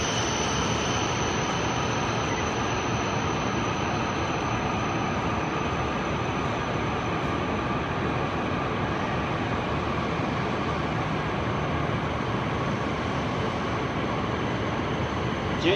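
Hokkaido Shinkansen train pulling into platform 12 as an out-of-service run, a steady loud broadband rumble and rushing roar that holds evenly throughout with no voices.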